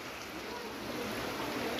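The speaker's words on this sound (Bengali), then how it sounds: "জোরে বৃষ্টি আসছে রে" Heavy rain begins outdoors under a darkened sky, a steady, dense hiss of downpour that swells slightly louder over a couple of seconds.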